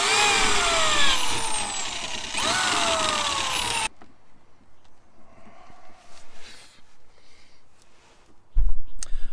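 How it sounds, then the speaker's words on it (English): A power drill whines loudly up close in two rising bursts, boring a hole for a drain vent in an RV trailer, then cuts off to quiet handling noises and a final thump. "I was just drilling the hole for the drain vent right here, sticking the hose up"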